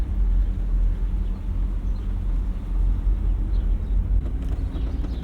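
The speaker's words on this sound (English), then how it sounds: "the engine is pulling me right along" A 1989 Mercedes-Benz 560SL pulling in second gear, heard from inside the cabin as a steady low engine drone with road rumble, no talking.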